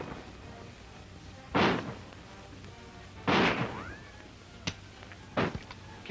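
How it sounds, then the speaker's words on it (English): Gunshots in a 1938 western shootout: several sharp cracks spaced a second or two apart, fairly loud, with a ricochet whine after one shot and fainter pops following, against low background hiss. "Well, I heard the shooting."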